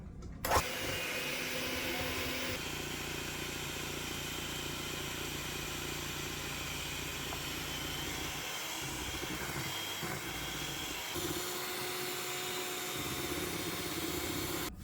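An electric mixer beats sugar and eggs for a peach cake batter, giving a steady, unbroken motor whir close by for the whole stretch, with no voices.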